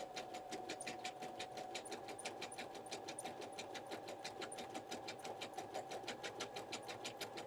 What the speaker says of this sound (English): Sorry if you don't like sewing machine noise.